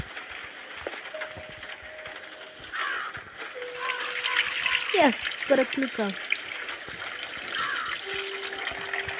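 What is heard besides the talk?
pouring water from a tap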